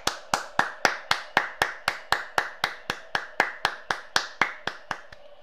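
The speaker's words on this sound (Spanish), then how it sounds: "Aplausos para el capitano." Claps from one person, close and crisp, land in an even rhythm of about three per second for several seconds in an otherwise quiet room.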